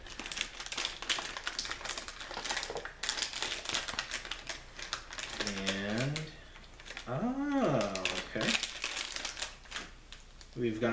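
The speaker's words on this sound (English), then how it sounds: "There's a tear slot, so let's tear this thing open." Toy packaging being torn open at its tear slot during a subscription-box unboxing: continuous crinkling and ripping of plastic and cardboard, close and fairly loud, with a voice briefly audible partway through.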